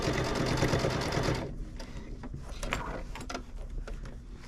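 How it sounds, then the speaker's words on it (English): A sewing machine stitches quilt binding with a loud, fast, steady whir for about a second and a half, then stops, followed by a few light mechanical clicks and handling noises. "continue sewing to where we started"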